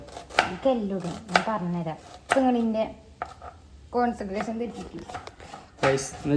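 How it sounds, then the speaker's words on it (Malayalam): Onions being chopped with a knife on a board in a home kitchen while preparing a Kerala fish pollichathu dish: sparse, crisp knife taps under someone talking in Malayalam. "ഞാൻ അയക്കില്ല ഉള്ളി അരിഞ്ഞോണ്ട് നിൽക്കാണ്"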